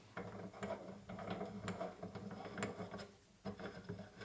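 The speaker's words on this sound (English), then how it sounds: "I'm screwing that on there, as you can see, hopefully." A KSS ATS tuner is screwed by hand onto the threaded muzzle of a .22 LR rifle, giving a run of soft metallic ticking and clicking at close range with no talk.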